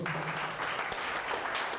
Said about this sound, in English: let's clap for God first